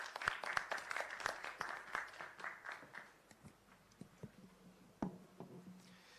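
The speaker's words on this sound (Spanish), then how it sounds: "un fuerte aplauso para Sergio" Audience applause for a speaker at the close of a conference session, a dense burst of claps fading out over about three seconds, followed by a few isolated knocks and rustles in a quiet room.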